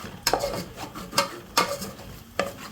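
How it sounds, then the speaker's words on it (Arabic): A spoon stirring flour and onion being toasted in a cooking pot for Turkish lentil soup, four distinct scraping strokes at a slow, uneven rhythm against a faint sizzle, close by and with no talk. "طبعا هذا بتضل عم تحركوه هيك عشان ما يلزق الطحين بسفل الطنجرة"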